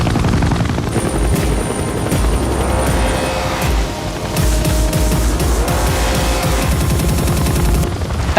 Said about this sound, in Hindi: बागी 2 में ही जो वो दो हेलीकॉप्टर एक दूसरे के सामने उड़ते रहते हैं ना